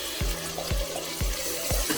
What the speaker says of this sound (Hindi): 1 कप पानी मैंने इसमें डाला है।